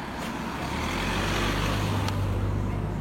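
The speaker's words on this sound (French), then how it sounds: "Il y a une voiture." A car passes close by on a road, a continuous low engine and tyre roar that swells steadily and fills the whole moment with no voices.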